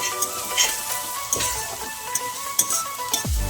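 Spring onion bulbs and thick green leaves fry in an oiled wok with a loud, close sizzle, broken by a few sharp scrapes and clinks of stirring.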